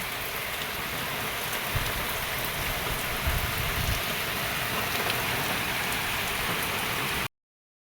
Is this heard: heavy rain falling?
yes